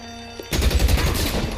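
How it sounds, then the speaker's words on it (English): Rapid bursts of gunfire from a shootout in the crime video game L.A. Noire, a dense, loud volley of overlapping shots that erupts abruptly after a brief quiet tone and keeps rattling on without a break. "I'll lay down some suppression fire."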